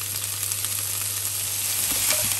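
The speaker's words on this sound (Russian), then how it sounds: "Обжариваем грибочки." Mushrooms frying in a pan for an omelette lunch, a dense steady sizzle close up with a faint utensil scrape near the end, no voices.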